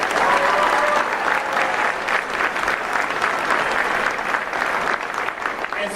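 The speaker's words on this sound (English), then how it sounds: "Please join me in a big round of applause" A crowd at an election night event gives a big, sustained round of applause, dense and loud from start to finish with no talk over it.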